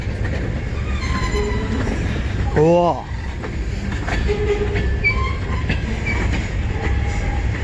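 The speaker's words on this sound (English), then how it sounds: "See an M-96 eastbound train" An M-96 eastbound train rolls past a trackside spot in Emmett, Michigan, a steady rumble of railcars with clickety-clack and a brief squealing tone midway, close and continuous while a person speaks briefly.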